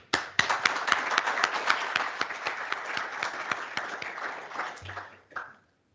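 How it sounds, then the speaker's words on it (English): Room of conference attendees applauding a winning project, a brisk burst of many hands clapping with sharp individual claps, steady for several seconds before ending abruptly, followed by a brief low thud. "I think we should give the project a round of applause"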